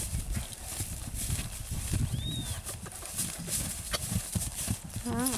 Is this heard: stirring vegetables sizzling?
no